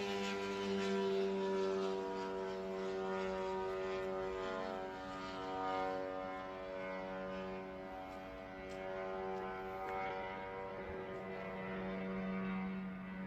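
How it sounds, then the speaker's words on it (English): A steady droning hum of an attack drone flying overhead, holding a constant buzzing tone for the whole stretch with slight swells in loudness, moderately distant and with no voices over it. "That's a drone right there, y'all."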